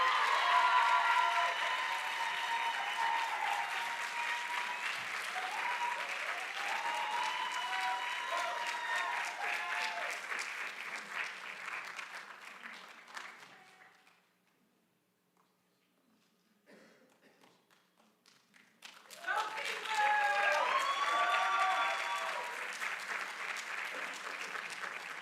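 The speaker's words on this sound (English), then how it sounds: "give me a big round of applause for Tanisha Anderson" An audience at an occupational therapy white coat ceremony claps in sustained applause that fades to near silence, then swells again into a second loud round.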